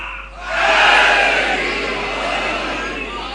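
A crowd at a Muharram majlis in Chakwal shouts religious slogans in unison, a loud, sustained collective roar that swells quickly and holds steady throughout.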